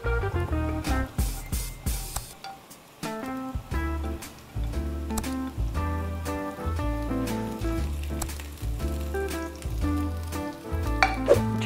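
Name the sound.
garlic and onions frying in a pan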